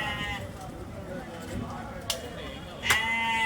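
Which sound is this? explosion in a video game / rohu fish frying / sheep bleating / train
sheep bleating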